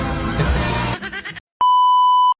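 An alarm clock gives a single loud, steady electronic beep lasting under a second, right after a brief burst of other noisy sound.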